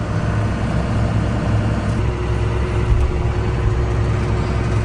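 A 6930 tractor engine runs with a steady, heavy low rumble while spreading muck, revving up slightly, close and constant with no talk over it.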